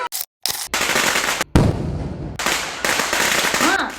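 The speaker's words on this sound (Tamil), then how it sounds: "பக்கத்து வீட்டில் அந்த பிள்ளைங்க இப்போவே பட்டாசு வெடிக்க ஆரம்பிச்சிருச்சுங்க" Firecrackers bursting close by during Diwali celebrations, a rapid string of sharp cracking pops with brief gaps, loud and dense throughout.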